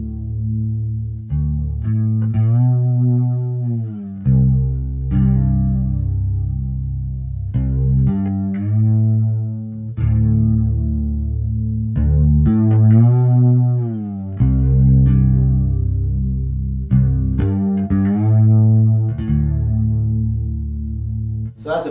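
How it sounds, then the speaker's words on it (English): A bass guitar runs through an MXR Stereo Chorus pedal, playing slow, melodic phrases of sustained, shimmering notes with a gentle wavering chorus, each note ringing out before the next. "just how beautiful and musical this pedal is. This is the MXR Stereo Chorus."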